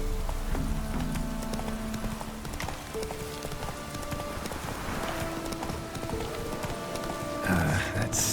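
Roach, a horse in The Witcher 3 video game, galloping with a rapid clip-clop of hooves under ambient game sound, voices and other effects.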